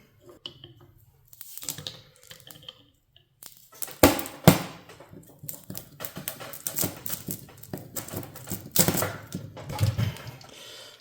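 Socket wrench working a bolt loose on the starter of a John Deere A tractor, giving close, irregular metallic taps and clicks with a few louder clanks in the middle, alone without talk.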